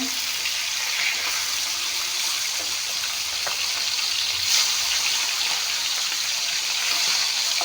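Fish frying in a pan, a steady close, loud hiss and sizzle that stays even and continuous throughout, with faint low sounds underneath.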